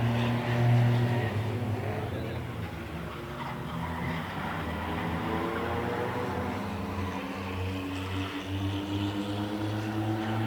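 Race cars on a dirt track during a heat race drone steadily at a distance, engines holding a sustained multi-tone whine that rises and falls slightly as the pack circulates, with a swell near the start.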